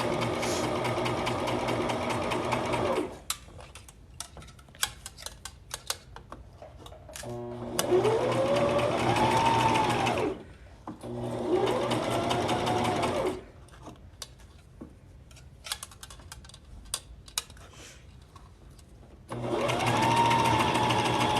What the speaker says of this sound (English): With a twin needle, it's important that you pull your pins because it could make you skip a stitch.